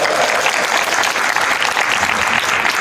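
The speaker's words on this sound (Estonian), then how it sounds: "Teeme aplausi" An audience at a women's day football festival applauds, with dense, sustained clapping that stays loud and even throughout.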